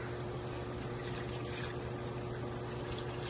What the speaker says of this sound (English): we are going to use some of this water on the plants that are still in veg.